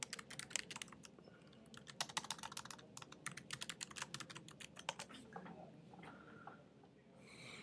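Rapid clatter of fingers typing a username and password on a computer keyboard, a dense run of sharp keystrokes that thins out near the end, close and fairly quiet, with no talking.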